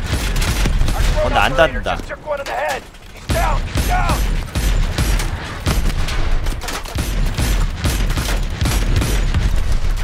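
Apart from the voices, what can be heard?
cannon firing in video game Call of Duty Advanced Warfare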